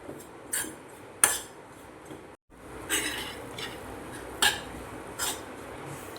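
Jaggery filling for modak mixed in a pan, with a utensil scraping and clinking against the metal in irregular strokes, several sharper knocks standing out, close and quiet with no speech.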